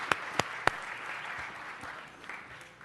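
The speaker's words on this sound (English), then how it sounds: "Let's give Ed a round of applause." Applause at a city council meeting for Councilmember Ed Reyes, the council's President Pro Tem: a few sharp early claps, then a steady, moderately quiet patter of many hands for about three seconds.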